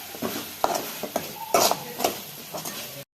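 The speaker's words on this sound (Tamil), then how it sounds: "உப்பு சேர்த்து நல்லா மிக்ஸ் பண்ணி விட்டுக்கலாம்" A spoon scraping and clanking against a pan as a spiced masala mixture with salt is stirred for girmit, a series of close, sharp metallic knocks and scrapes over a faint sizzle.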